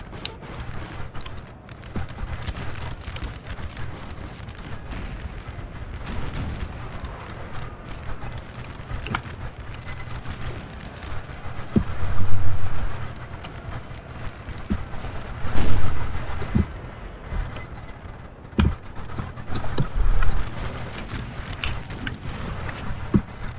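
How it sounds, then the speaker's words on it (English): Musket volleys in a Napoleon: Total War 3 mod battle, a long stretch of distant, rolling crackling gunfire with heavier bursts swelling at intervals over a low battlefield rumble, no speech. "But just listen to the effects to the gunfire. It sounds gorgeous."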